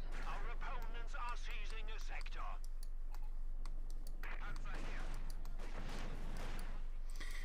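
Machine gun fire in the real-time strategy game Company of Heroes 2, rapid rattling bursts mixed with clicks and battle noise under continuous commentary.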